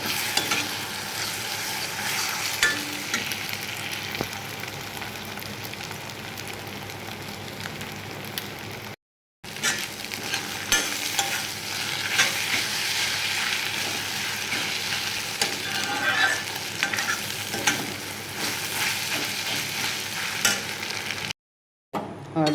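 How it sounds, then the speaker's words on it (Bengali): Roti frying and puffing in a pan in a home kitchen, giving a continuous close sizzle and hiss that carries on at length, briefly cut out twice, with no speech. "আর এদিকে কিন্তু আমার রুটি ভাজা হচ্ছে।"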